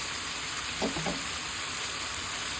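Shrimp paste (bagoong alamang) sautéing in a pan for ginataang pakbet gives a steady, close sizzle and fry hiss with a couple of brief stirring scrapes, and no talking.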